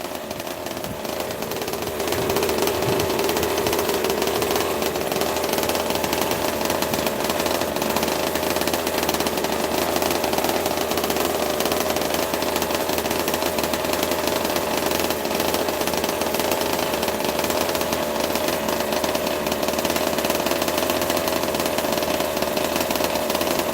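A 26cc two-stroke engine running on mixed gas idles steadily nearby, a continuous buzzing, rattling drone that settles in after a brief start and holds for the rest of the clip.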